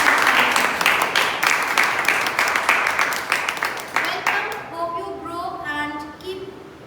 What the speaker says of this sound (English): once again, a collective round of applause